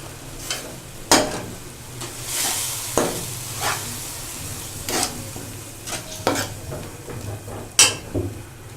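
Garlic ginger paste and green chilies fry in a pan for matar aloo, with a soft steady sizzle broken by scattered clinks and scrapes of a spoon stirring against the pot, close up and without speech.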